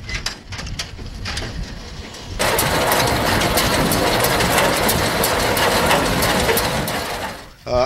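Hay baler knotting mechanism tripped into motion beside a running 1935 John Deere AW hand-start two-cylinder tractor, loud steady mechanical churning rising sharply after a quieter idling start, with a brief voice near the end.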